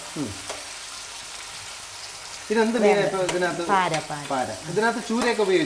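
Oil frying in a pan for a Kerala fish masala, a steady sizzle under a voice talking through the second half.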